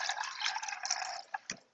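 Water pours into a small cooking pot holding cashews, a short splashy trickle followed by a couple of drips near the end, fairly quiet and close.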